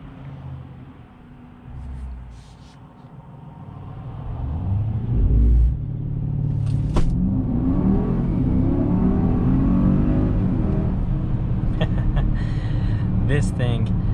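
A 2021 Mercedes-Benz GLE 580 with 4MATIC in sport mode accelerates hard, its engine rumble rising into a loud, sustained roar heard from inside the cabin, with someone talking over it.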